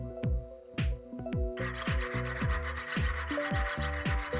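Hand sawing with a wider spiral tooth blade, a rapid rhythmic rasping stroke pattern, close and steady, with a few isolated scrapes before the continuous sawing begins.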